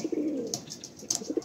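Pigeons in a loft give soft, low rolling coos, a few close murmuring calls in a short burst with faint chirps and rustling in between.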